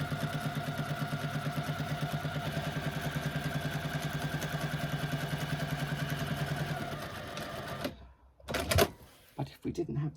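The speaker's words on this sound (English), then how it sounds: "I do apologise about the traffic noise." Steady traffic drones outside while sewing goes on, a continuous low engine rumble with a mid-pitched hum for about eight seconds, then it drops away and a few brief clatters and a voice follow.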